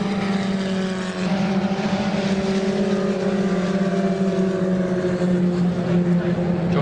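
Historic Lotus 61 Formula Ford race cars battling at Donington Park, engine notes droning at steady pitch with slowly shifting tones, moderately loud and continuous as the cars pass together.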